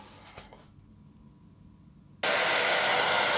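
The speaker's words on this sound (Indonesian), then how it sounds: "atau enggak bisa mengeringkannya dengan menggunakan hair dryer" A hair dryer drying a freshly washed screen-printing film screen switches on abruptly after a quiet stretch with a faint tone, then blows as a loud, steady, broadband whoosh.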